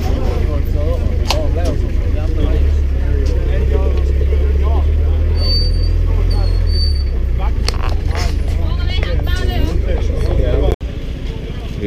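A small bus drives toward a pier, its engine a low steady rumble beneath nearly constant talk from passengers inside, ending with a sudden clunk.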